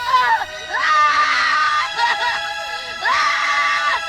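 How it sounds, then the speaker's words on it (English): A boy screams in anguish in the 1992 film Lorenzo's Oil, loud repeated wailing cries in bursts with a short pause between them. "I can't listen to him scream."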